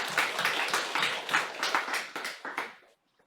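Applause from a church congregation, a burst of clapping that fills the room for about three seconds before tapering off into quiet.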